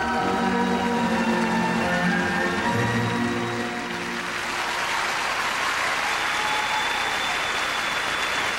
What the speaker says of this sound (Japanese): 会場からこの拍手です。